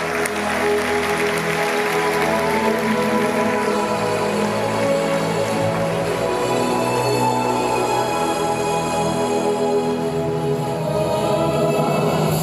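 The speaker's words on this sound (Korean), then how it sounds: "큰 박수 부탁드리겠습니다" An audience at the Busan International Film Festival opening applauds director Yoon Jae-ho, steady clapping that runs throughout, mixed with sustained tonal music playing loudly over it.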